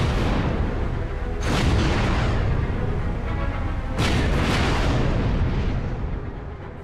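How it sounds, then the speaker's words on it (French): The Bismarck's huge 380 mm naval guns fire in two heavy, thundering blasts several seconds apart, each followed by a long rumbling roar that fills the whole clip. "chacun de ses 8 énormes canons de 380 mm peut projeter un obus à 35 km"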